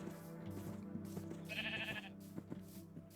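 Sheep in the Minecraft video game bleating, a couple of short wavering cries over a low droning background, moderately close with no talking.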